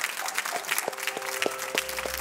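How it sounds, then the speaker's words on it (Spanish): Applause breaks out for Tomás, a man being celebrated in a warm, emotional moment, with soft, fairly quiet clapping from a small group heard over a faint steady tone and light background noise. "A ese aplauso para mi Tomás"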